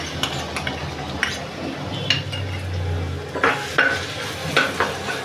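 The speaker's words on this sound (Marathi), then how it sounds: "हे लसूण चॉप केलेला लसूण तो टाकून घेऊ" Chopped garlic and ginger fry in a pan while a spatula stirs, a steady sizzle under scattered metallic clinks and scrapes, close and fairly loud with no talk.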